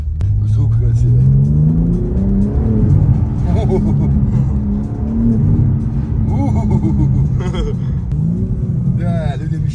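Car engine revving close by in repeated rising and falling sweeps, loud and throaty, with people talking over it throughout.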